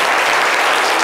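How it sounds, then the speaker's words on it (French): A studio audience claps loudly in a brief, dense burst, many hands together at full strength, with no talking over it. "Applaudissez-le bien fort"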